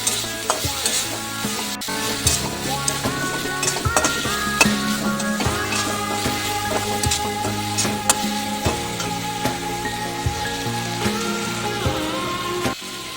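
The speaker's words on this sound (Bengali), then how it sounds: "ততক্ষণ নাড়তে হবে যতক্ষণ না মশলার কাঁচা গন্ধটা চলে যাবে" Biryani masala stirred and fried in a pan: a loud, close, continuous sizzle with regular spatula scrapes and clinks against the metal throughout, no voices.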